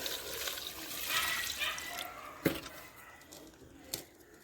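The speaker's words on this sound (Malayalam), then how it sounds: "ഇതിലേക്ക് നമുക്ക് വെള്ളം ചേർക്കാം" Water is poured into a container of chopped papaya pieces, a splashing gush that trails off with a couple of sharp knocks, close and fairly quiet, no talk.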